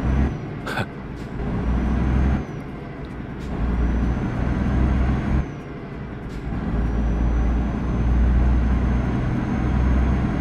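A truck in Euro Truck Simulator 2 accelerating, its steady loud engine drone rising and dipping through gear changes, with a brief hiss early on and no talking.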